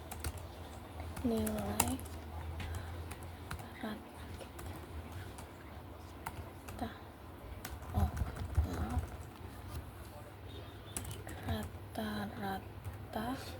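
Fingers type on a computer keyboard in uneven bursts of close, crisp key taps, with a person talking intermittently over the clatter.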